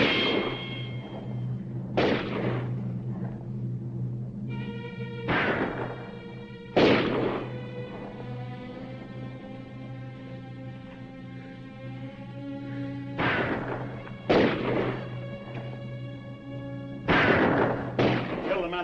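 Gunfire in a shootout in an old 1950 Western film, several sharp reports spaced irregularly over a sustained musical score, loud and close with echoing decay.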